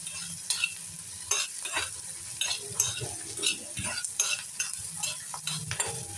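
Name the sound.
onion frying in a pan for red amaranth curry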